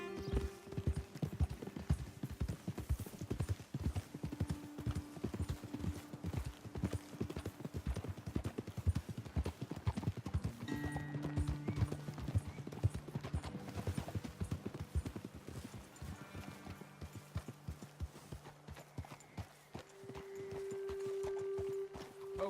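Hooves clip-clop in a steady, rapid rhythm as horses gallop in Red Dead Redemption 2, with occasional tonal music-like hums and a faint whinny in the background.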